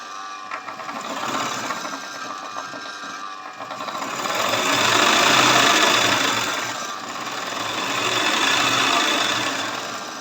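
An embroidery machine stitching, a continuous close mechanical whir with rapid needle ticking that swells and eases in speed, running alone without talk.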